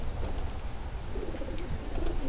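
Racing pigeons coo softly in a loft, low murmuring calls blending over a steady background hum, continuous and fairly close.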